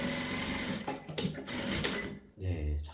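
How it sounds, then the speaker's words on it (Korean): A Juki 900C sewing machine stitches at slow speed in short rapid bursts of mechanical chatter, stopping and restarting, close and clear, ending in a brief low whirring run. "네, 작동이 멋지게 됐습니다."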